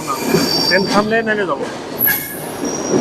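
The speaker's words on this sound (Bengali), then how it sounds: "আমাদের চিলাটি এক্সপ্রেস ট্রেনটি বিমানবন্দর রেল স্টেশনের প্ল্যাটফর্মে ঢুকলো" Chilahati Express train pulls into the airport railway station platform, metal wheels squealing loudly in long pitched screeches over a rumbling, clattering background, with brief voices nearby.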